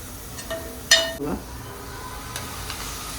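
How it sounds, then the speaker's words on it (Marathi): Eggplant and dried shrimp for vangi sukat frying in a pan, a low steady sizzle with a few sharp clinks and scrapes of a utensil against the pan, close and fairly quiet. "अशी त्याच्यामध्ये टाकून चांगली फ्राय करून घ्यायची आहे"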